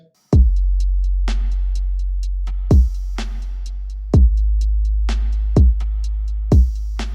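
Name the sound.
drum beat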